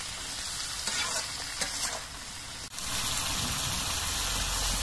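Flat beans sizzle steadily in a hot pan with slit green chillies and salt while a utensil stirs them, adding a few scraping strokes over the continuous, close frying hiss.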